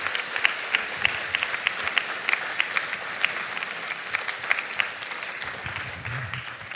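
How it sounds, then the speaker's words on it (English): Applause from an assembly audience, a sustained wash of clapping with sharp individual claps standing out, lasting several seconds before easing off slightly at the end. "So Leah, let's give ourselves an applause."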